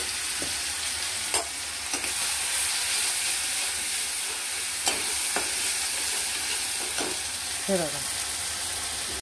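Ground spice paste with cumin seeds frying in hot oil for a spiced sprouted moth bean curry, a steady loud sizzle and hiss running throughout, with a few scraping stirs of a spoon against the pan.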